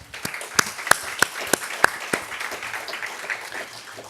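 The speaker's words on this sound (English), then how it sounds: "Let's give them a round of applause" An audience at a 2019 university engagement awards ceremony applauds the faculty reviewers: a few sharp, separate claps at first, then many hands blend into steady, moderate indoor applause.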